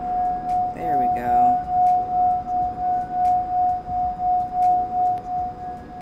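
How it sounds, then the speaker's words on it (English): A glass rim rubbed by hand rings out a steady, pure singing-bowl tone that sustains through the whole stretch, with a brief clink and rustle of handling near the start. "So you get it to make its like beautiful singing bowl sound"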